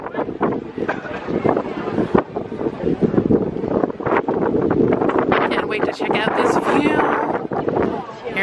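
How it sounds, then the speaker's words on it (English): Wind at Victoria Peak, Hong Kong, buffets the microphone in a continuous roaring rush, loud and close, with gusts swelling and easing throughout. "It's getting windy."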